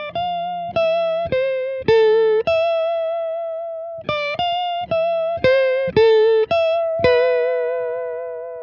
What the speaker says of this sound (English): a good starting point is a Univibe pedal